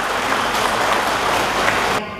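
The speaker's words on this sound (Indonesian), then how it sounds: "Tepuk tangan dong buat komite" A crowd at a Tabligh Akbar religious gathering claps steadily for the school committee, a dense, even wash of applause that carries on for about two seconds before it drops away.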